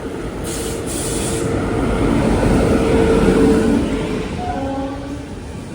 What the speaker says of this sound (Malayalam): കോർബ തിരുവനന്തപുരം വണ്ടി ഇതാ വരികയാണ്.